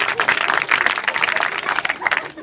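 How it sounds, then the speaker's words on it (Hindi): Students clap together during an adolescent education program at a school in Puranibasti, Mubarakpur, a brisk scattered burst of many hands at close range, with voices mixed into the crowd noise. "बहुत बढ़िया, ताली बजाओ यार"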